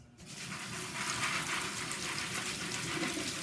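Tap water rinses raw cashews held in a kitchen strainer, a steady close gushing splash that starts abruptly and runs evenly, with no voices.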